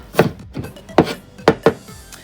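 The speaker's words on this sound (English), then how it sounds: "some Italian parsley, same thing, rough chop" Italian parsley being rough-chopped with a knife on a board, five or six sharp close thuds at an uneven rhythm, loud and alone without talk.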